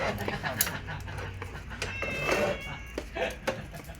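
A cat meows a few times close by, its cries mixed in with people talking and some background clatter.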